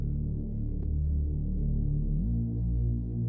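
Deep, sustained synth bass droning low and steady, with a smooth pitch slide partway through, alone and fairly loud.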